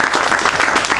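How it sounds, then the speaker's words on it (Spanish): Loud, close applause from an audience at a cooperative meeting on social currencies, many hands clapping in a dense, continuous burst with no speech. "Démosle un aplauso, compañero."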